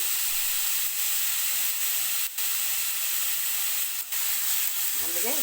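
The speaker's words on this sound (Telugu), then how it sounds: "కొంచెం పచ్చివాసన పోయేదాకా ఫ్రై చేసుకుంటామండి" Thickly cut vegetables sizzle in a hot pan as a soup base, giving a steady, close frying hiss throughout with only brief dips.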